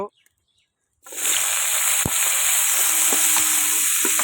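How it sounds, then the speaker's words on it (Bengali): Figs hit a hot pan after a second of quiet and start a loud, steady sizzle that carries on to the end, with a few faint clicks over it. "এইবার আমরা ডুমুরটা ভেজে নেব"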